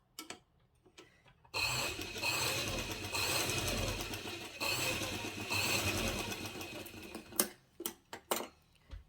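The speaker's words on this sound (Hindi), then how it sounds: "सिलाई लगा लेनी है।" A sewing machine stitches a frock's Peter Pan collar in a steady whirring run of about six seconds, pausing briefly, with sparse clicks and handling taps at the start and end.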